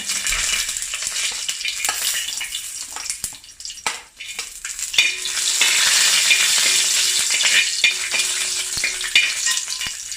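Cashews fry in oil, sizzling and crackling steadily in a pan, with occasional clicks of stirring, the frying swelling louder partway through.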